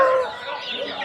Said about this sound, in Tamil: அடுத்து பாருங்கள் நாட்டுக்கோழி